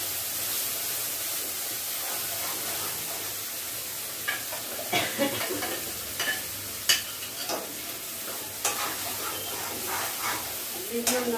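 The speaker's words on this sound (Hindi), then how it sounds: "थोड़ी देर इसको तेल में और पकाएंगे मसाले को।" Masala (ground spice paste with onion and salt) frying in oil while being stirred for a prawn dish, a steady soft sizzle with scattered scraping and clinking of the spoon against the pan.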